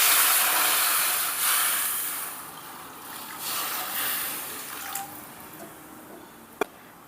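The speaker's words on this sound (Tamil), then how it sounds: "இதே வானல்ல நம்ம தண்ணி விட்டுக்கலாம்." A steady rush of water pours into a cooking pan for kozhukattai, hissing and splashing, then tapers off into faint drips, ending with one sharp tap.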